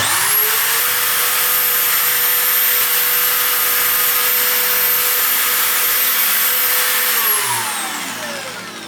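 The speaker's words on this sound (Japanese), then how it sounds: "M4 のネジ入れますので 4mm のドリルで穴開けしてます。" An electric drill with a 4mm bit bores holes in wood during a DIY workshop build, giving a loud, steady high motor whine that runs continuously, then winds down near the end.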